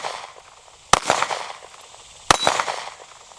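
Two sharp, loud shots from a Taurus GX4 pistol at an outdoor range, spaced about a second and a half apart, each followed by a short ringing echo.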